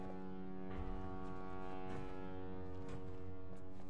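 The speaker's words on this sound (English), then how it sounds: "Nobody should be honking a horn." In the video game Husk, a horn blares in the distance as a continuous, droning, tonal blast that holds steadily throughout, faint and alone.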